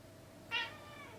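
A pet cat lets out a single short meow, close and fairly clear, against a quiet room background.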